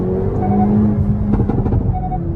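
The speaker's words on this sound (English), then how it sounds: "Engine start. It's a push button start." A push-button-started $200K car engine idles with a deep steady rumble and low hum, close and loud, with a slight rev in the middle.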